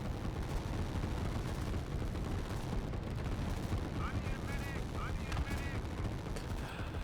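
Artillery fire in the Line War real-time strategy game, a dense, continuous rumble of booms and gunfire throughout, with small chirping unit sounds layered on top.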